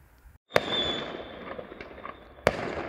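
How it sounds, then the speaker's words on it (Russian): Fireworks go off outdoors in Veliky Novgorod: two sharp bangs about two seconds apart, with crackling and a hissing whistle trailing between them at moderate distance. "Это для нас салют такой."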